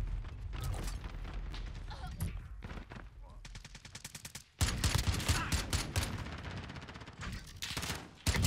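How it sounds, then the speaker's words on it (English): Shotgun blasts and weapon handling clatter in a Call of Duty match, loud rapid bursts of gunfire with mechanical clicks and racking, interrupted by a brief gap before heavy firing resumes. "Shotgun."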